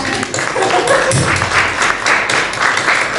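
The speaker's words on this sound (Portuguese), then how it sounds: "uma salva de palmas" Audience at a book festival author talk in Amarante applauding steadily, a dense, loud wash of clapping that fills the whole stretch with no talk over it.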